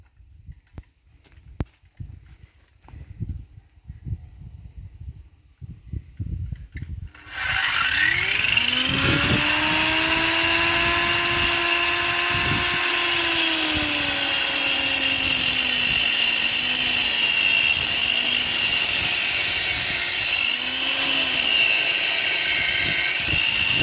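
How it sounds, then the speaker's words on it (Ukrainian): A handheld power tool fitted with a new cutting disc spins up after a few seconds of quiet shuffling and handling noises. It then whines loudly and steadily, its pitch dipping as it bites into material, while building work continues on a house foundation. "Зараз попробуємо, як новий диск ріже, старий не захотів."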